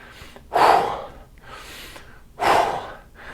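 Two deep, forceful breaths during an upper-body resistance band workout, each a loud close rush of air about two seconds apart, with quiet between them.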